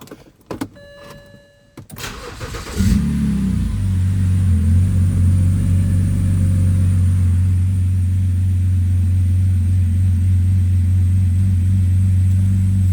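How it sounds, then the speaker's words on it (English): After a few clicks and a brief cranking sound, a BMW E90 325i engine, fitted with a muffler delete, fires up and settles into a steady, smooth, low idle that continues to the end. "I'll show you guys a little startup of it, and it is extremely smooth."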